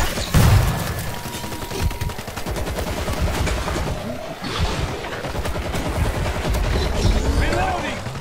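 Rapid bursts of automatic gunfire and booms in a video game battle, loud and dense, crackling continuously across the stretch while voices call out over the fighting.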